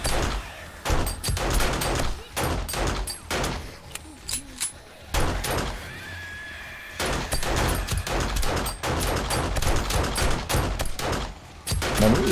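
Rapid gunfire rings out nearly nonstop during a zombie horde night in the video game 7 Days to Die, loud bursts of shots with only brief pauses between volleys.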